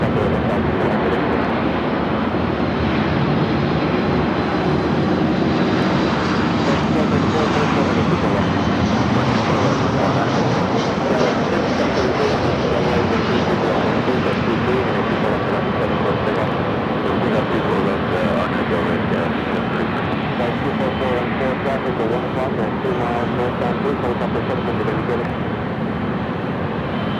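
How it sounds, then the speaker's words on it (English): An Air Canada Boeing 737 MAX 8 jet roars at LAX, a loud continuous engine rumble that holds steady for nearly half a minute, with faint talk beneath. "Up next is that Air Canada 737 and MAX 8."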